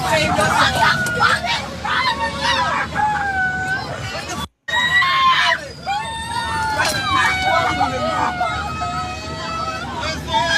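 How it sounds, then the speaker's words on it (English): Students on a school bus struck by a train, with loud chaotic screaming and babbling voices filling the cabin continuously, one brief dropout midway. "Oh my gosh, the screaming."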